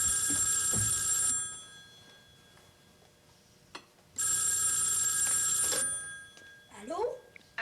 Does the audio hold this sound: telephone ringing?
yes